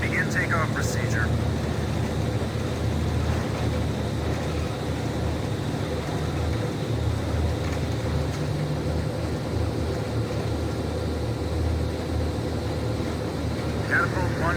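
Jet aircraft roar during a catapult takeoff from a carrier flight deck in the video game Ace Combat 5: a continuous, heavy engine rumble that stays steady throughout, with faint radio-style blips near the start and end.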